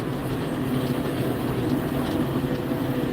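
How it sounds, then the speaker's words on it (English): A farm tractor engine running steadily while spreading winter cow and horse manure, a continuous low droning rumble close by with no voices over it. "Out running tractor."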